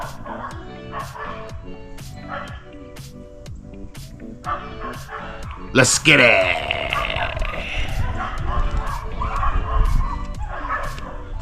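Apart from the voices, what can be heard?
dogs fighting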